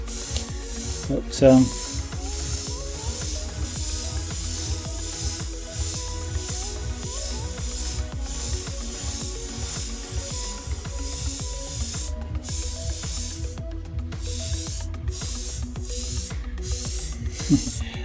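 An airbrush sprays paint onto a model canal boat with a steady, close, continuous hiss that runs the whole way through and briefly cuts out several times near the end. A person talks over it at times.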